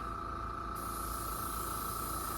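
An airbrush sprays steadily in a close, continuous hiss while weathering the underbody and trucks of a Bachmann 1:20.3 scale model caboose.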